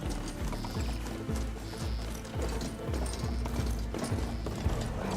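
Hooves clip-clop in a steady galloping rhythm as a riding mount runs in the video game Horizon Forbidden West, layered over a dense music and ambience bed with a brief whinny.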